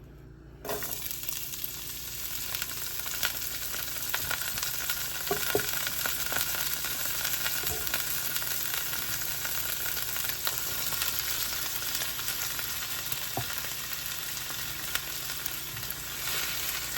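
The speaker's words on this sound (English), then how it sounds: "I just want to saute the onion and the black pepper." Onion and black pepper sauteing in a pan for a smothered mustard fried pork chop dish, a steady close sizzle running throughout with a few faint scrapes of stirring, no talk.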